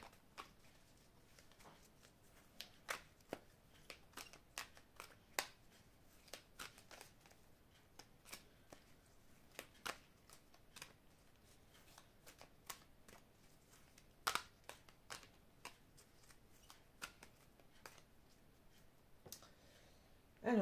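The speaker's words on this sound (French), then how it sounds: "je vais donc couper le jeu et recouvrir les cartes" A deck of oracle cards is cut and handled in a quiet room, giving soft, scattered card snaps and slides that come irregularly over a steady low hiss. There is no talking.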